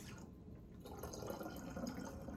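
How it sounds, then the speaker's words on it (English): Water pours steadily into a cleaning spray bottle while filling a homemade non-toxic cleaner, a soft continuous splashing trickle that grows slightly fuller, close and fairly quiet. "And then you just fill the rest with water."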